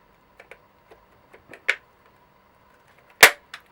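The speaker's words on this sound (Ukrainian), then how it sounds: "почули ми звук, защолкнулось" A part of a Tekhmann TCGT-8/I20 3-in-1 cordless grass trimmer clicks shut into place. A few small, sharp plastic clicks and ticks come close and isolated against near silence, with one louder snap near the end.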